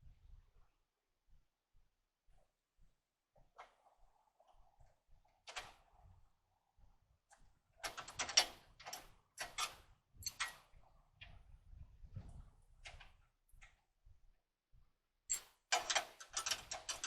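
Wrench tightening bolts on a Harbor Freight 1000 lb lift cart, with sparse metallic clicks early, then bursts of ratcheting clatter in quick clusters against a quiet background.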